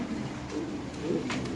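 Pigeons coo softly among fancy breeds, including a white King pigeon, with a low continuous purring coo throughout and no talk.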